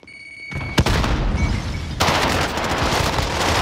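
A grenade goes off in a video game with a sharp close blast, followed by a dense wall of rapid automatic gunfire and echoing booms that keep going to the end.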